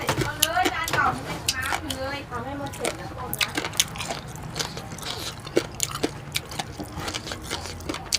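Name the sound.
crunchy bite while eating spicy papaya salad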